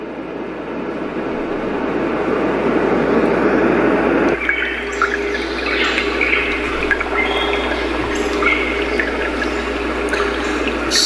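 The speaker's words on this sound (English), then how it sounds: "The second one down is a different sounding white noise, almost like an ocean surf." A Roffie white noise sound machine plays a steady, surf-like wash of broadband noise that shifts in character about four seconds in, continuous and fairly loud with no talking.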